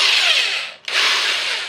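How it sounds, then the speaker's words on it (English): A power drill runs at a steady, moderate speed on headphone parts, briefly stopping and restarting, loud and close with no voices. "I'm just going to drill it real slow"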